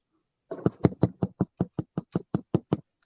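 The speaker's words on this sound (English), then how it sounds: "Did someone knock at your door?" Someone knocks on a house door, about a dozen sharp, evenly spaced raps in a quick steady run, loud and close, with no talking.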